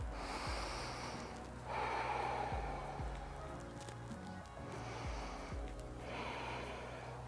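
Breathing during a yoga session for equestrians, repeated audible inhales and exhales with sharp, snort-like bursts in a slow rhythm, close to the microphone.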